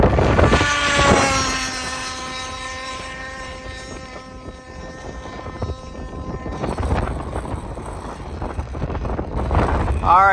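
Gas-powered 7.5 hp HPI Baja 5B SS RC car at full throttle, a loud buzzing two-stroke whine that climbs and then fades as it runs away, with heavy wind rumble on the microphone.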